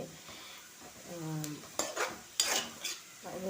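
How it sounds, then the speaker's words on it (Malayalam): Chicken fries in a pan with a soft sizzle under scraping and clinking as it is stirred, a few sharp utensil knocks against the pan standing out; a faint voice is briefly heard. "ചിക്കൻ പൊരിച്ചിട്ട് അവിടെ വെച്ചാൽ മതിയായിരുന്നു അപ്പോൾ ചിക്കൻ പൊരിക്കുന്നുണ്ട് ഞാൻ"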